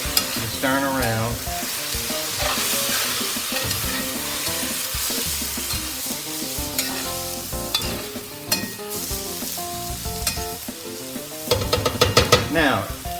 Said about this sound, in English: We're going to stir it around, as you can see.